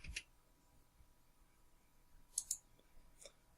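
Sharp mouse clicks while drawing geometry in CENOS simulation software: one faint click near the start, then a close pair of crisp clicks and another soft one, over a quiet room.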